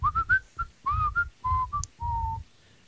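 A person whistles a short melodic phrase in imitation of the whistled part at the end of a soul song, several clear sustained notes in an uneven rhythm, close and alone.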